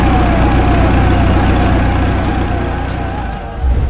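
A loud, steady ambulance siren wails over a rumbling engine, with a wavering tone that holds throughout.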